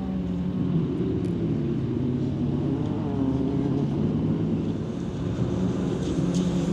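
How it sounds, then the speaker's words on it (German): Rally cars from the Dakar 2025 rally, including a Ford Raptor T1+, accelerating hard toward a stage finish, heard as a steady, continuous engine roar at a distance with no pauses. "Da wird auch auf den letzten Kilometer noch oder auf den letzten Meter noch richtig Gas gegeben."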